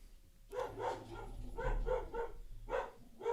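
Dogs barking in the background, several sharp yips and barks in short clustered bursts, moderately distant and heard on their own.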